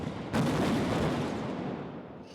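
Gunfire during a police siege in the Saint-Denis suburb of Paris: a sudden loud burst breaks in, then sustained heavy crackling and rumbling fire continues and slowly fades, with no voices.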